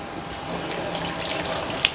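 Plain water poured into flour for kneading seedai dough, a steady close hiss of running liquid lasting throughout with a small splash near the end.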